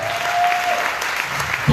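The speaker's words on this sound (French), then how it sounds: "Ton acclamation n'est pas digne de ce homme de Dieu." A church congregation claps and acclaims together in a dense, steady burst of applause filling the room, with a faint sustained tone and scattered cheering voices mixed in.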